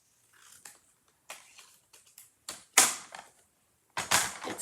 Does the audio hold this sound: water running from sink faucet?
no